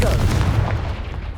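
A Confringo spell blast in the video game Hogwarts Legacy, a single heavy booming burst with a deep rumbling low end that fades over about a second.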